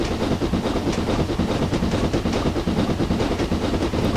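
Steady rumbling rail noise of a British train running in Train Simulator 2015, loud and continuous with a faint clickety rhythm and hiss throughout, no voices.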